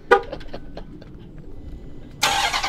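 A stock Dodge Hellcat with factory mufflers fires up by remote start. A loud broadband roar bursts in near the end and settles into a rumbling idle after a few faint knocks and clicks.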